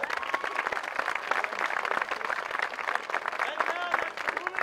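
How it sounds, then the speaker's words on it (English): A stage show audience applauds with steady, dense clapping and scattered cheers, with a voice mixed in. "Applause for this woman."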